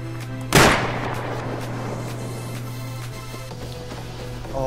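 A single sharp gunshot cracks in the Rust video game, loud and close, then trails off into a long echoing decay over a steady background hum.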